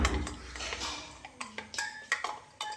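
An aloe vera and coconut milk hair pack being stirred in a bowl: a few quiet, close taps and clinks of the spoon against the container in a short, irregular burst.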